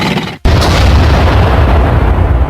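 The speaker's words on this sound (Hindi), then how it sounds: "सुनो, उस पत्थर को टैंक से उड़ा दो।" A cartoon tank blows up a stone with a loud, sustained explosion that erupts after a brief dip into silence and rumbles on with heavy low boom and debris noise for the rest of the moment.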